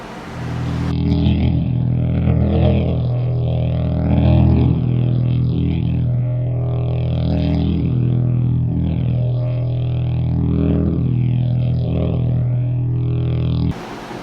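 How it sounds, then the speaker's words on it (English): A reciprocating air compressor running inside a shop room, a loud steady low drone with a pulsing mechanical hum that starts abruptly and cuts off cleanly after about thirteen seconds. "right behind me in that room is my air compressor, and I built a room around it so I didn't have to listen to it"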